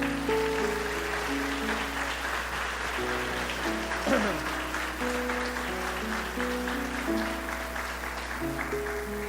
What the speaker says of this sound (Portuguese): Vamos dar uma salva de palmas a Deus por isso.